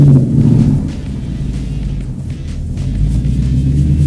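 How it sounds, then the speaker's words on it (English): A 727 hp rear-wheel-drive Mustang on snow tires climbs a steep snowy, icy incline in snow and ice mode, its deep engine rumble loud and steady from inside the car, with no talk. "we're going to see how this thing pulls up this incline"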